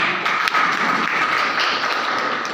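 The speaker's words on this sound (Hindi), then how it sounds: "मैं देवांगन सर के लिए मैं जोरदार ताली चाहूँगा।" An audience applauds a speaker at a gathering, a steady, dense wash of many hands clapping at moderate distance, sustained evenly throughout without a break.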